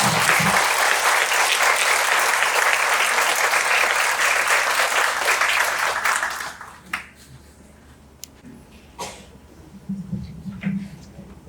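An audience at a community history event applauds loudly and steadily for about six seconds, then the clapping cuts off abruptly, leaving a quiet room with scattered small noises and faint murmurs.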